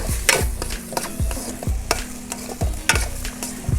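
Scrambled egg stuffing for parotta is stirred in a hot pan: a spatula scrapes and taps in a regular rhythm, roughly once every half second, over a soft continuous sizzle.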